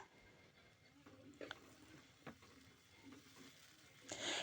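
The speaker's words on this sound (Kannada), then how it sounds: "ಈಗ ಅದ್ರ ಜೊತೆಗೆ ನಾನು ಟೊಮೊಟೊ ಹಾಕ್ತಾಯಿದ್ದೀನಿ ಅದು ಕೂಡ ಚೆನ್ನಾಗಿ ಫ್ರೈ ಆಗಲಿ" Tomato frying in a pan with onion and green chilli for vermicelli upma gives a faint, steady sizzle. Occasional soft stirring scrapes and a brief clatter rise near the end.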